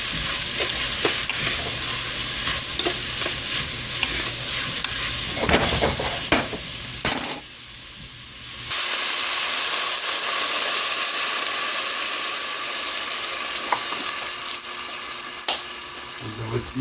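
Ground beef and onions fry in a pan for a shepherd's pie, giving a steady sizzling hiss with scraping stir strokes; a brief dip midway, then the sizzle resumes evenly.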